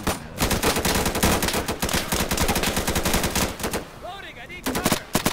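Heavy gunfire in the shooter Insurgency: rapid machine-gun bursts and rifle shots rattling close and loud almost nonstop, a short lull near the end, then more shots, with a voice shouting among them.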